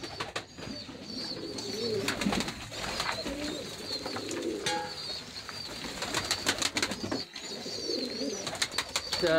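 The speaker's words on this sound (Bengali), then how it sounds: "এটা দেশীয় জাতীয় কবুতর, মাঝে মাঝে বোম্বাই কবুতর রয়েছে।" Native domestic pigeons cooing nearby in a pigeon house, repeated low throaty coos with occasional wing flutters and faint chirps in the background, no talking.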